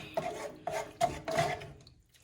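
A spoon scrapes and stirs chili seasoning into a pot of chili, four distinct rasping strokes in quick succession, close and fairly loud, then trailing off.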